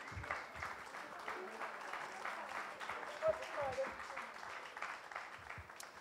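Steady, moderate applause from an audience, with voices talking over it throughout.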